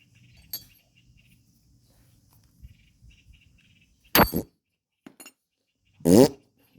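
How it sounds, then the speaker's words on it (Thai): A couple of short, loud, buzzy bursts like farts stand out among faint clinks and quiet background handling noises during an Isuzu front wheel bearing replacement. "ตดดังไปหน่อย"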